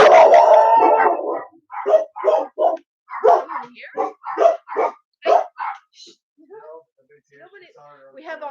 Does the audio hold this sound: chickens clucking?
no